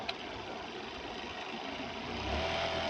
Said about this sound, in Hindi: जैसे देखें अभी मैं मशीन चला रहा हूँ